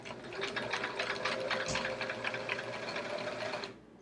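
A sewing machine stitches a chevron quilt in the ditch, a fast, steady mechanical chatter of needle strokes heard up close for a few seconds before stopping abruptly.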